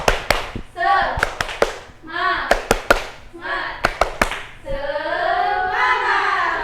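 A class of pupils claps the rhythmic Indonesian 'tepuk semangat' spirit cheer, sharp clap bursts in a patterned beat, with children's voices chanting between and under the claps.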